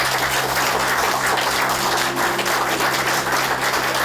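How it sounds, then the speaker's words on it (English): A large crowd applauds steadily, a dense wash of clapping that holds at an even level, with a faint hum underneath. "if we could give you a big round of applause, that'd be fantastic."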